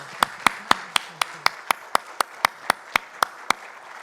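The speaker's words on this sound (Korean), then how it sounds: "네, 박수 감사합니다." A church congregation claps in a steady rhythm during a Sunday worship service, roughly a dozen sharp, evenly spaced claps ringing out clearly in the hall.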